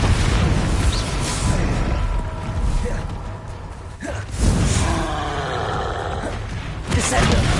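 The Bombarda spell goes off in Hogwarts Legacy, a loud booming burst amid steady game rumble, with further heavy impacts after it and a voice speaking in the background.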